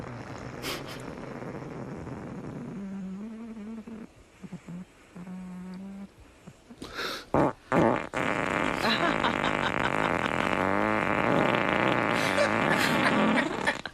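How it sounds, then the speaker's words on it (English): Loud, sputtering farting noises burst out repeatedly in a long, buzzy stretch, mixed with voices and laughter nearby. "I've never heard such farting."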